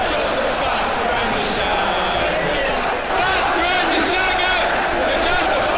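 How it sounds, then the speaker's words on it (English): A dense arena crowd cheers and roars throughout a WWE 2K wrestling video game match, loud and continuous, with a brief dip around the middle before the roar surges back. "the crowd says what it wants"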